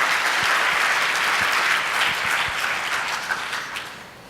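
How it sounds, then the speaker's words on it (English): Conference attendees give a round of applause for long-serving employees, a full, steady patter of many hands that holds briefly and then begins to fade near the end. "Give them a round of applause"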